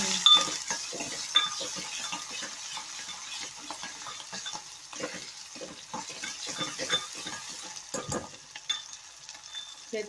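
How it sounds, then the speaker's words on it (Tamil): Manathakkali (black nightshade berries) frying in a pan, a steady close sizzle with crackling pops and occasional stirring clinks, no talk. "நல்ல மணத்தக்காளி பொரியணும்"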